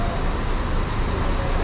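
Buses idle at a bus station platform in Thailand, a steady, dense rumble of engines and roadway noise that holds level throughout, with a faint murmur of people in the background.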